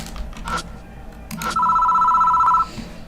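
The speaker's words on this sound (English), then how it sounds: "Doesn't seem to want to stop ringing, so I reach for the phone." A telephone rings in the Spirit Hunter NG horror video game, a steady electronic trill held for about a second after a brief earlier burst, loud and clear over a low ambient hum.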